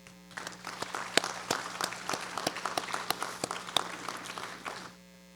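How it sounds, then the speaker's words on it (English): Audience at an annual cooperative meeting applauds with a brisk, moderately distant clatter of many hands over a low electrical hum, stopping abruptly near the end. "let's give a round of applause to all of these builders"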